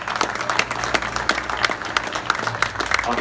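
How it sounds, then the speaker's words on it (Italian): Audience applause at an Italian bolentino fishing championship award event, a dense steady wash of many hands clapping across the whole stretch, moderately loud with a few sharper individual claps standing out. "a cui tributerai sicuramente un applauso più che meritato"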